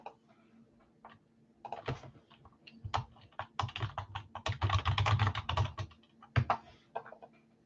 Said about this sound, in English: He's typing again.